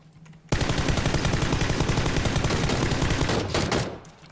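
Automatic gunfire in PUBG Battlegrounds, a long unbroken burst of rapid shots that starts abruptly, loud and close, then tapers off near the end.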